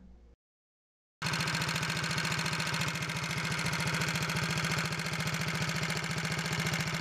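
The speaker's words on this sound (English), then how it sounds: "Here's a screen capture from the video with the engine running." Kohler K-series single-cylinder small engine running steadily and loudly with a fast, even firing pulse, after a brief silent gap at the start.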